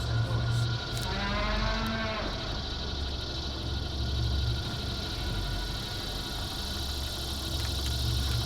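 Gekko walkers in the Metal Gear Solid 4 video game let out a brief cow-like mooing call near the start, over a steady droning background rumble that continues alone afterward.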